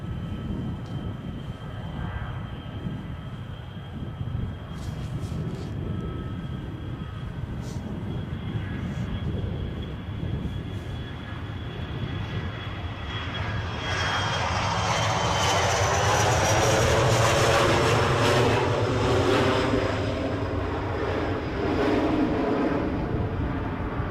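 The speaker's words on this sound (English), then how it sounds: "The wind's making the takeoffs look quite graceful today" Airliners take off at Edinburgh airport in gusty, windy weather, a loud, steady jet roar that builds and swells into full takeoff thrust partway through, with no voices.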